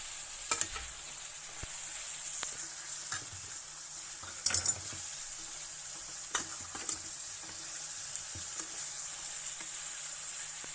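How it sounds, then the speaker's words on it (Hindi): Spices cooking in yogurt in a pan, a steady soft sizzle with a few sharp clinks of a utensil against the pan scattered throughout, no talking. "अब आप देख रहे हैं हमारे मसाले दही में पकना शुरू हो रहे हैं।"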